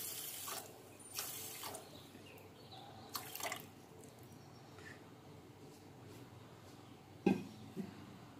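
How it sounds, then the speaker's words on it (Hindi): Water pours into a pan holding 250 grams of sugar to start a syrup for ghevar, a soft, faint trickle and splash with a couple of light knocks against the pan. "और इसमें पानी डालते हैं।"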